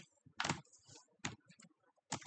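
Keystrokes on a computer keyboard while coding a Django category model, close and clear, arriving in three short clustered bursts of rapid taps separated by quiet pauses.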